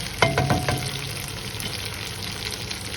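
Leftover chili tofu frying in a pan, a loud close sizzle with a brief burst of stirring at the start, then settling into an even, continuous crackle.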